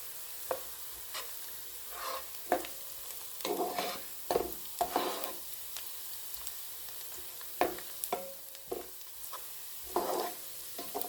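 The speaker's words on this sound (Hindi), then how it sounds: "ये देखिए, अब हम थोड़ा और पकाएंगे, प्याज को हल्का और गोल्डन करेंगे" Onions and green chilli frying in a pan for egg khagina, a low steady sizzle broken by repeated scraping bursts of stirring at an uneven rhythm, close and without talk.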